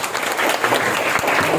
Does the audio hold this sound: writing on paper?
no